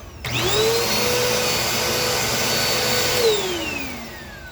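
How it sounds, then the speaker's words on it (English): A Dirt Devil Endura Reach vacuum cleaner starts with a sudden click, its motor whine rising to a steady high drone, then it switches off and the pitch falls away as it winds down. "this vacuum runs pretty nice"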